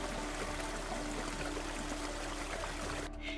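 Water pours steadily into a village well, a dense, continuous rushing wash that stays even throughout, cutting off abruptly at the very end.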